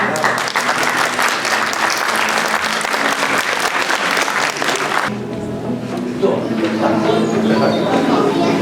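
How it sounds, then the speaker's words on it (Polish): Applause from an audience at a kindergarten contest awards ceremony for the most beautiful Easter palm and Easter egg, dense and steady clapping that thins after about five seconds while some voices carry on. "Brawa."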